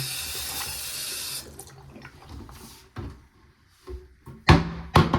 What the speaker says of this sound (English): The faucet working fine.